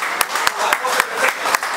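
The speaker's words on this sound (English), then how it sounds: "So everybody should clap for the vibration and for the rejuvenation" Audience clapping and applause at a magazine curtain-raiser event, a steady wash of many hands with periodic sharper peaks, moderately loud and continuous over a short stretch.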